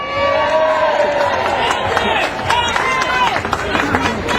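A crowd at an anti-war rally in Union Square, New York City, cheers and applauds continuously, with scattered whoops and shouted voices rising above steady clapping.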